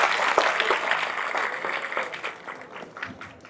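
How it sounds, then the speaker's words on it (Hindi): Audience applause welcoming a guest at an annual community conference: a crowd clapping together, strongest at first and gradually thinning and fading over a few seconds. "एक बार जोरदार तालियों से स्वागत कीजिए"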